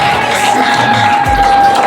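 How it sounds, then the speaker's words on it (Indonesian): A crowd at a Maulid Nabi celebration cheers and claps for a prize winner, a loud mix of shouting voices and scattered clapping with a sustained tone running through it. "Tepuk tangan."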